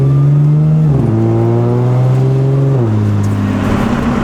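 BMW M4 or Audi S4 sports car engine while driving, a loud steady drone from inside the cabin that climbs in pitch, drops at an upshift around one second, then climbs and shifts again.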